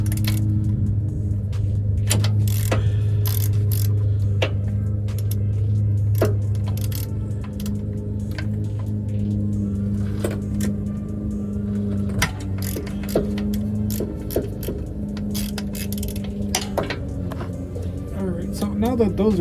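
A hand ratchet clicks in short, irregular bursts while loosening starter bolts on an OBS Ford F150, the sharp clicks close and scattered over a steady low hum, with someone talking throughout.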